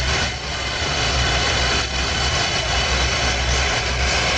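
A steady, loud roar of a Ferroli oil boiler burner running continuously, with a broad rushing hiss over a low rumbling drone.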